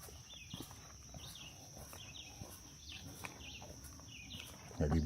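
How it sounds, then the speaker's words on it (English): Birds sing along a loop trail in the Black Bear Wilderness Area, with repeated short chirps and calls at moderate distance over a steady high insect-like tone and faint rustling. "I hear a lot of birds."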